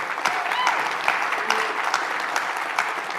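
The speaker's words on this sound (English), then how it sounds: "Big round of applause." An audience at an evening livestreamed talk applauds with steady, moderately loud clapping, dense and continuous with a few sharper individual claps standing out.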